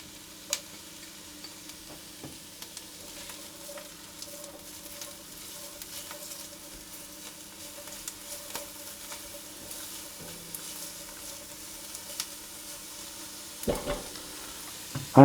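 Onions frying in a pot for a North African harira soup, with celery being added, give a steady low sizzle with occasional stirring scrapes and a couple of sharp utensil knocks, close and continuous with no talking.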